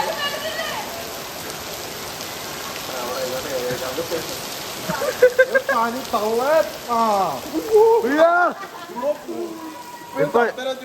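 Steady rain hisses throughout, and people start talking over it partway through.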